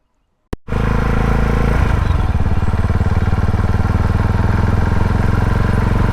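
A small Herald motorcycle starts with a sharp click and settles into a loud, close, steady engine drone with a fast even thrum on a test run, with no talk.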